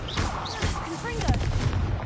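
Confringo fire spells cast in the Hogwarts Legacy game burst in quick succession, booming and crackling, with a brief spoken voice and chirpy tonal game effects layered over the explosions.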